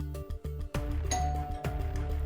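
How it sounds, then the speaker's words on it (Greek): A doorbell chimes indoors in a few bright ringing tones over a busy, continuous background of other sound, with no voices heard. "χτυπάει το κουδούνι"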